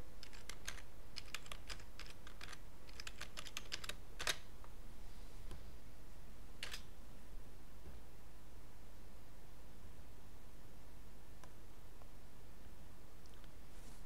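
Quick bursts of typing on a computer keyboard while entering a first name, email and password into a signup form, clicks clustered at the start then sparse, close and fairly quiet with no talk.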